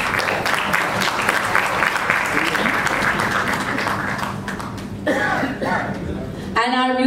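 A crowd at a Bhojpuri film trailer launch gives loud, dense applause for actor Raza Murad, sustained clapping that fades near the end as voices and stage sounds take over.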